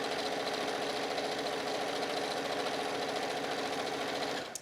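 A sewing machine runs steadily while stitching a pillow cover, a loud even mechanical whir with rapid needle chatter that continues unbroken before stopping abruptly at the end.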